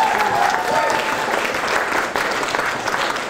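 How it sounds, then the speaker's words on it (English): Wedding guests in a barn venue clap together in a steady, close burst of applause that holds at an even level throughout. "I think Stephen needs another serious round of applause for that"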